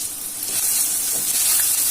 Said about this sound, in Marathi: तेल गरम झाले आहे। आता आपण आलं लसूणची पेस्ट टाकूया।